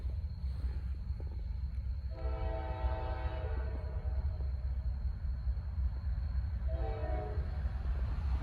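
Norfolk Southern freight train P09 rolling slowly along the Charlotte District with a steady low rumble, its horn sounding in a long blast and then a shorter one. No voices.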